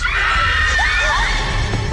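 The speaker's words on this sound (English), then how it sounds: "you can hear a blood-curdling scream on the other side" A blood-curdling scream heard over a phone in a TV episode, a loud continuous shrill cry with wavering pitch lasting the full two seconds over a low throbbing background.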